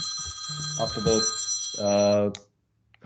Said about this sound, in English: Someone's ringing already, Raj, you see.